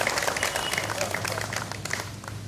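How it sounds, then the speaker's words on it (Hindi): Audience at a live stage performance clapping for the performers, a steady patter of many hands throughout. "मैं आग्रह करूंगा सब लोग तालियां दोबारा जोर से बजाएं इनके प्रोत्साहन में"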